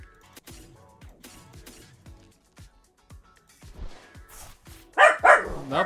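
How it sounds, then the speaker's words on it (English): A pet dog in a home barks in a short, loud burst of a few rapid yaps near the end, after quieter clicks and soft background sounds. "Nope, that's my dog."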